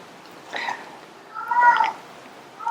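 A cat indoors gives a couple of short meows, one soft and one louder and longer, with quiet pauses between them and no talk over the sounds.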